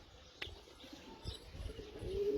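Racing pigeons coo softly at a pigeon flying competition, with faint low coos and a brief sharp chirp over quiet outdoor background.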